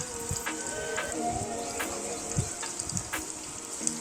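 Fish curry bubbles and sizzles softly in a pot, with occasional light taps and scrapes as a spoon stirs it to keep it from sticking to the bottom.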